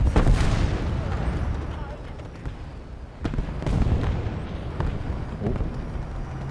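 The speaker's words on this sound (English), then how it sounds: "Random rockets." Rockets explode in a video game while grinding the M10 Booker, a burst of rumbling booms and crackling blasts, loud at first and then scattered, sharper impacts, heard under intermittent talk.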